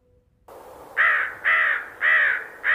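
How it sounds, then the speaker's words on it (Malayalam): A crow caws four times in a steady rhythm, each call harsh and drawn out, close and clear after a brief silent start. "കാക്കയുടെ കരച്ചിൽ എങ്ങനെയാണ് ഒന്ന് കേട്ടു നോക്കൂ"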